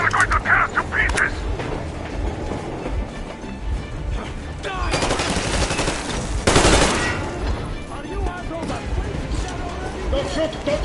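Rapid machine gun fire in the video game Metro Exodus, dense bursts of shots mixed with crashes and battle noise while voices shout and talk throughout.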